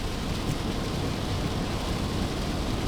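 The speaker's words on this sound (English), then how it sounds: "it's pissing rain" Heavy rain pours down in a steady, dense hiss with a low rumble underneath, continuous and close throughout, with no voices.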